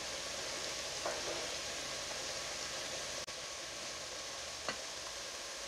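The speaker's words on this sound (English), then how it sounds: "here's my tortilla chips all fried up with the onions" Tortilla chips frying with onions in a pan of oil, a steady hiss of sizzling that runs throughout, fairly quiet, broken by a couple of faint clicks as the pieces are moved around.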